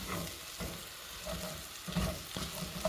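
Pilau rice being stirred in a pot as it cooks, giving soft, repeated scraping and sizzling strokes at close range with no voices.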